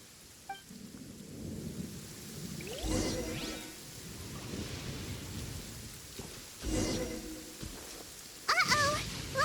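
Video-game thunderstorm with continuous rain and two rolling thunder rumbles a few seconds apart, fairly faint and distant, ending with a brief burst of sharper effects.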